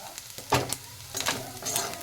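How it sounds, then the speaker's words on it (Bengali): Pea peels and potato frying in a pan with a steady sizzle and a few sharp scraping stirs close up. "আমি আরও দু মিনিটের জন্য ভেজে নেব এই মটরশুঁটি ছিলকাটার আলু"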